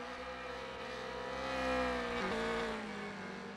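Race cars in Wreckfest 2 roar along during a ranked lap, engines droning with shifting, layered pitches that swell near the middle and ease off, without any talk.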